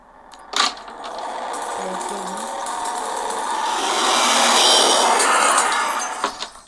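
A vehicle approaches in a game, its broad engine noise building steadily and peaking before trailing off, with mechanical clicks and clanks throughout.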